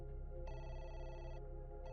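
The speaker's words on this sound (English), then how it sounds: "Just then, the phone rang again." A telephone rings, a steady electronic trill with a brief pause and then a second burst, heard alone at a moderate, slightly muffled level.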